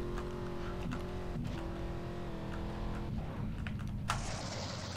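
A Hotring racer car engine in GTA San Andreas Multiplayer hums steadily with shifting pitch, joined by a short burst of clatter near the end.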